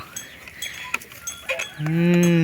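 Cattle and water buffalo on a farm in rural Laos, with a cowbell clanking in scattered knocks before a loud, close moo rises at the end; no one speaks.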